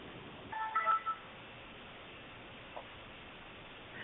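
Telephone keypad tones are dialed on a public conference call line, pressing star 6 to unmute. A quick pair of beeps comes faint and brief near the start, followed by quiet line hiss.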